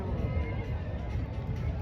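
Horses neigh and whinny repeatedly in the tented horse area of the 2024 Pushkar camel fair, with a constant crowd murmur and faint hoof clops around them.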